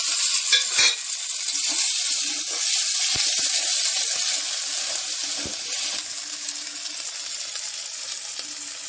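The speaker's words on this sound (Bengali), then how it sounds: "ভালো করে ভাজা ভাজা করে নেব আদা রসুন কাঁচা লঙ্কা পেঁয়াজের সাথে" Ginger, garlic, green chilli and onion fry in hot oil with chopped tomato, a loud, constant hissing sizzle with occasional stirring clicks and scrapes, gradually easing slightly toward the end.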